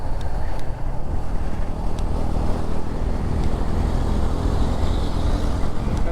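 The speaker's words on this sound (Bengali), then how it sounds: "সব গাড়িগুলো আস্তে আস্তে যাচ্ছে" Cars moving slowly along a foggy highway at night, heard from a motorbike: a steady broad roar of engine, tyre and wind noise that stays loud and continuous throughout, with no one speaking.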